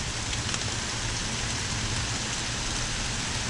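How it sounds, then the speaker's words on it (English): Steady, dense rain pours down, a constant hiss of drops hitting surfaces with no voices. "Well, the rain was picking up. Now it's tapering off."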